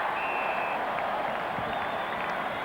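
A large rugby test-match crowd at Concord in Sydney, many of them New Zealand fans, roars and applauds in a continuous, dense wash of cheering heard from a distance.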